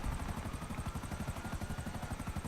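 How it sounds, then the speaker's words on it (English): A damaged helicopter in GTA V flies with a loud, rapid rotor thump beating steadily under a constant engine whine, close and continuous with no voices. "the helicopter's in rough shape"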